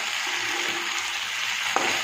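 Ginger and garlic paste fries in a pan with a steady, close sizzling hiss, broken by one sharp stir of the spatula near the end; no one speaks.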